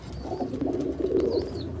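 Soft, low cooing comes from Abluk pigeons kept in a home loft collection. A couple of murmuring coos sound close by and fairly quiet, with a faint higher chirp near the end.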